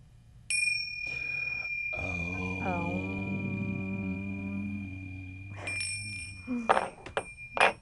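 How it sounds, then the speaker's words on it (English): A meditation bell is struck once and rings on while a low hummed om chant joins beneath it, followed by a few faint shuffles and soft voices at the end. "Ring the bell one more time."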